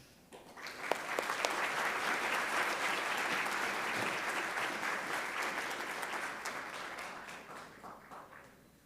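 An audience at a school board meeting breaks into sustained applause that swells quickly and tapers near the end, dense clapping filling the room with no speech over it.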